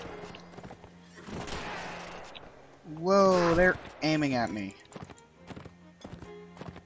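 Horse hooves clip-clopping in the video game Mount and Blade 1866, thudding in irregular steps under a loud whinny from a bucking horse, while someone talks over the game.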